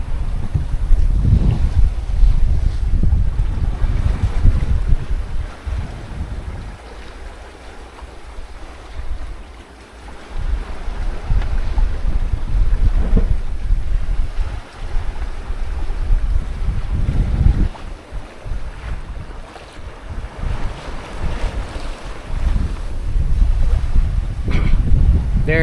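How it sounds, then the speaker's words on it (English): A 30ft sailboat sails alone under light wind on open sea, heading toward the South China Sea, with steady wind buffeting the microphone and soft water rushing along the hull throughout, swelling and easing in gusts. "Happy to be sailing and not motoring."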